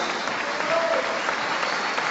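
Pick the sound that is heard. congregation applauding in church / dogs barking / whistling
congregation applauding in church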